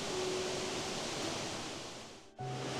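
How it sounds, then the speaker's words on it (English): Black Waterfalls in Snowdonia rushing as a steady, close broadband roar that fills the scene without a break, with a brief dip near the end before the constant wash of water resumes. "Here it is, behind me, the Black Waterfalls."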